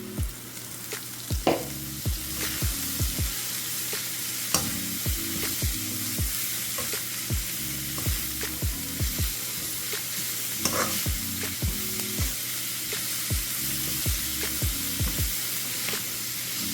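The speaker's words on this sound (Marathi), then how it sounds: "आता आपण ह्यामध्ये जी आपण कापून पालेभाजी ठेवलेली आहे ना ती घालूया" Chopped leafy amaranth greens are stirred in a frying pan over a constant sizzle, with repeated spatula scrapes and knocks landing every second or so throughout, close and clear with no talk.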